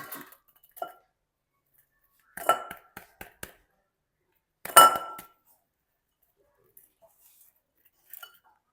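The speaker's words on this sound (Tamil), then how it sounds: "ரெண்டா பெனங்கட்டியை குத்தி எடுக்கிறோம்" Blocks of palm jaggery are pounded by hand in a home kitchen, giving a few sharp, hard knocks and clinks spaced apart by quiet pauses.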